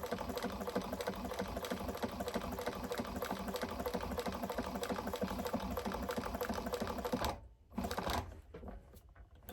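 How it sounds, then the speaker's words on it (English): Stitching fabric about an eighth of an inch from the raw edge, a sewing machine runs in a steady, rapid, close mechanical whir, then stops abruptly near the end and leaves quiet handling noises. "So I'm going to sew this on here."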